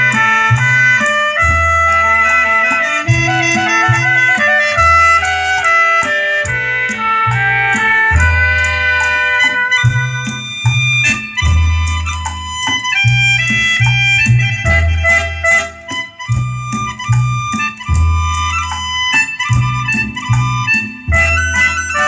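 Music played through a Yamaha A-520 stereo amplifier made in Japan, with the tone controls bypassed for a natural sound: steady, loud full-range playback with strong bass beats and layered melodic tones, no talking.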